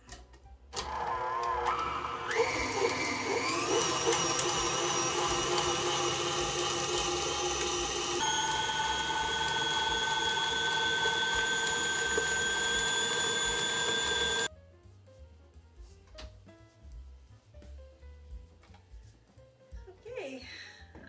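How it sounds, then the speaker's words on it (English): Electric mixer whipping a thick chilled chocolate cake mixture, a loud steady whine with strong tonal harmonics running continuously for about fourteen seconds, then cutting off to quieter kitchen noise and brief clatter. "So I'm going to put it on this mixer and start whipping it up."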